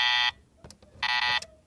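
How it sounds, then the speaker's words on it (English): An Operation board game buzzer sound effect plays as two loud, harsh electronic buzzes, each about a third of a second long, with a short quiet gap and a few faint clicks between them. "Something like an operation buzzer. That works."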